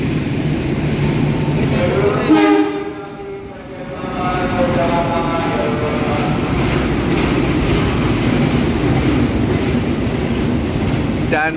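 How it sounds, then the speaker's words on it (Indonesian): The Argo Merbabu passenger train, bound for Semarang, runs straight through a station on track 3 without stopping. It is loud and close, with a steady rumble, rhythmic clickety-clack of the wheels and some squealing as the carriages rush past. "Jalur 3 melintas langsung kereta api Argo Merbabu tujuan Semarang."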